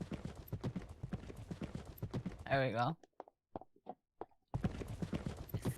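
Horse hooves clip-clop in the Second Life video game, a short run of sparse, evenly spaced clops standing alone between stretches of people talking.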